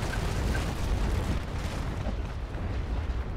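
Cannon broadsides roar from sailing warships in the Naval Action game, a dense, continuous rumble of overlapping booms that holds steady and loud throughout, with no break.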